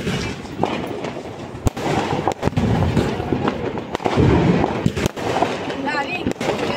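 Diwali firecrackers bursting at a family celebration, repeated sharp cracks and bangs at irregular intervals over a dense crackling background, with people talking throughout.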